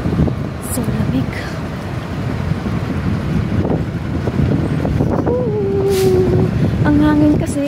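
Strong wind gusts buffet the microphone outdoors on a cold street in Japan, a steady low roar throughout with voices talking over it and brief tonal whines from passing traffic.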